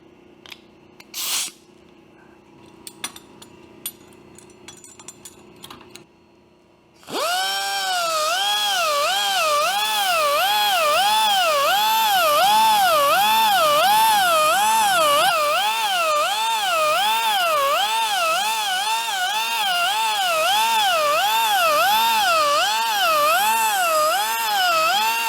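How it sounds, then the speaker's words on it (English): A belt sander smooths a slightly undercut, paint-flecked weld on a Tiger Cub motorcycle frame. Quiet shop clatter gives way after about seven seconds to a loud, steady abrasive whine whose pitch wavers continuously as the work is pressed against the belt. "we're at belt sander time."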